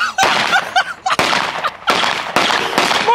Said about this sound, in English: Hold on, Jay, we're finna shoot.